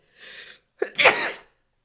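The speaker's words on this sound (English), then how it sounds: "I've been sneezing and coughing since yesterday" A single loud sneeze, close up: a quick sharp inhale, a short pause, then the explosive burst that trails off.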